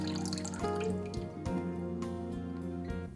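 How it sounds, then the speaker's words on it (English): Bleach solution drains from a urinary drainage bag into a toilet, a faint close trickle of liquid with small drips and splashes running continuously. "Drain the bleach solution into the toilet."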